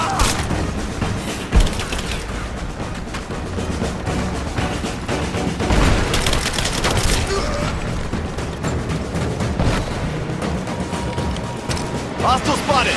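Gunfire rattles through a firefight in the video game Rise of the Tomb Raider, with sharp shots and booms spread across a dense, loud mix of game sound and music, while voices call out over the action.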